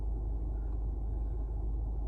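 Steady low rumble inside a moving car, a continuous deep drone at moderate level with no voices over it.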